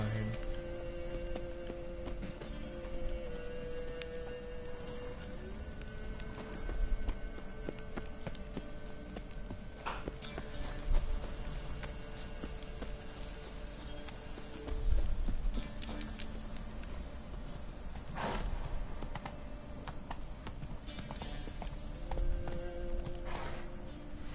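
A horse gallops in The Witcher 3, its rhythmic clip-clop hoofbeats running steadily over game ambience and music, with occasional short voice lines.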